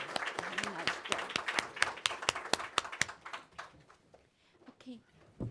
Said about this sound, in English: please join me in a round of applause for our panelists